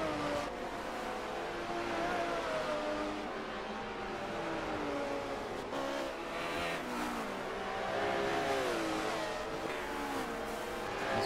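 A Mercedes-Benz AMG GT4 race car's engine in a racing video game at Yas Marina revs up and down continuously, with rising and falling pitch as it shifts through gears, steady and moderately loud with no voices.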